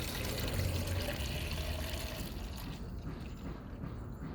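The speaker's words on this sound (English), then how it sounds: "Okay, now what you want to do is fill up your water container" Water is poured into a container for a hanging inverted planter, a steady close gushing fill that quietens and thins toward the end.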